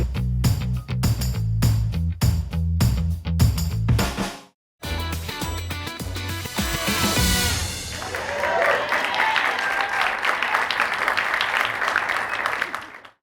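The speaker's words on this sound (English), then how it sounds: "Can I get a little bit of a cheer?" An audience cheering and applauding at a live podcast taping, a burst of loud clapping that breaks off briefly, then swells into sustained applause and cheers.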